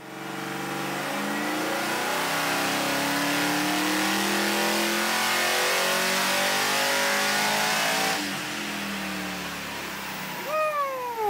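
A supercharged V8 in a 1964 Pontiac Bonneville revs loud and close, its pitch sweeping steadily upward for about eight seconds, then easing off into a lower idle. Brief rising squeals come near the end.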